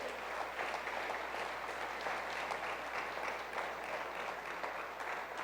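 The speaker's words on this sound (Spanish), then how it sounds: "Dele un aplauso al Señor." A church congregation applauds, a dense, steady clatter of many hands clapping, fairly faint and continuous with no talking.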